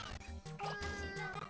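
A cat meows briefly in Katamari Damacy Reroll, a short, plaintive in-game cry over steady, rhythmic background music.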